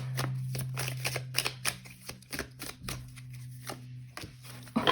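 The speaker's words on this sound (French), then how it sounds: "je tire encore une carte du tarot" Tarot cards are shuffled and drawn, a series of crisp close flicks and riffling snaps in irregular bursts over a low steady background hum.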